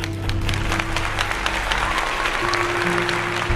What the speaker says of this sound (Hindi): जोरदार तालियां दीजिए।